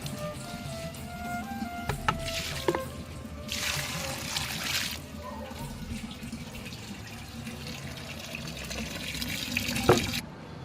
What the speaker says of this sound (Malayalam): അപ്പോൾ എല്ലാ ചെടിക്കും വെള്ളം ഒഴിച്ചിട്ടുണ്ട്